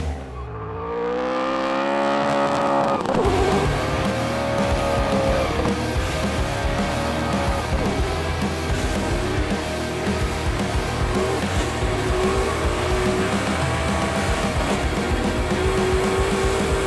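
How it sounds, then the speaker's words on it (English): A Camaro drifts with a Hot Wheels stunt team, its engine revving loud and steady while the tires squeal continuously throughout, rising pitch sweeps of the motor audible over sustained screeching. "here comes Aspen in the Camaro with Mingay"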